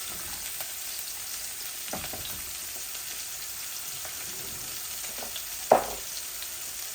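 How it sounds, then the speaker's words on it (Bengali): Chital fish pieces frying gently in oil in a pan, giving a steady close sizzle with a few soft crackles and one louder spit of oil. "আর মাছগুলো আস্তে আস্তে ভাজা হোক"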